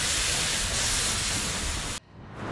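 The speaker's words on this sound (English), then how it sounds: "the steam locomotive rolls in" A steam locomotive rolls in at a scenic railroad, a steady broadband hiss and rumble of steam filling the scene continuously before cutting off abruptly, leaving a quieter residual hiss.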